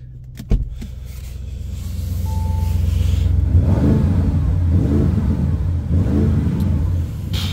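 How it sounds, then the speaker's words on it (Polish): A 2022 Audi RS6 with a 600-horsepower 4.0 V8 starts with a sharp crank and settles into idle, then revs up into a deep, loud, throaty roar that rises and falls in several close blips. "No, no brzmi ten samochód. V8, 600 koni."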